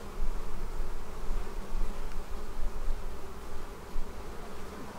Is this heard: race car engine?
no